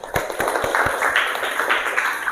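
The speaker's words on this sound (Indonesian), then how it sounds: "Tepuk tangan buat Aurel semuanya." A classroom gives a short burst of applause for a student, with scattered claps ringing out close and loud for a couple of seconds under a murmur of background noise.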